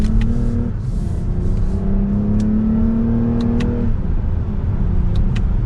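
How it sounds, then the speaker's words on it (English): 2022 Lexus ES 350 F Sport accelerating in manual sport mode, paddle-shifted, with a strong steady engine drone that rises in pitch, drops at a gear change and climbs again, heard loud from inside the cabin. "let's pop it over into the manual settings so we can shift using these paddles here. And we'll give it a little bit of gas."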